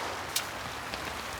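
Rain falls in a soft, steady hiss, with a few faint drop ticks scattered across a quiet stretch.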